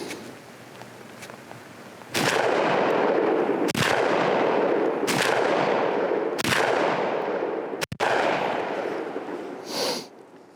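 Shotgun blasts from a Turkish Benelli M4 clone and a Beretta semi-automatic, five loud, sharp booms spaced one to two seconds apart, each followed by a short ringing echo outdoors.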